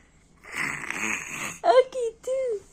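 A child imitates a father's snoring with a few breathy, rasping snore sounds, short separate bursts near the microphone after a stretch of soft talk.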